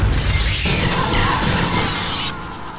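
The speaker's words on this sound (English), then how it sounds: "Proximity mines in the ceiling exploded" Proximity mines planted in the ceiling blow up in the video game Aliens vs. Predator, a loud crashing blast with a sustained rumbling, debris-filled tail that cuts off sharply near the end.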